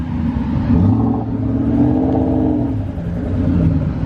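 A turbocharged Ford Mustang Boss 302 rolls in with a deep rumbling engine that rises and falls in revs, loud and close throughout.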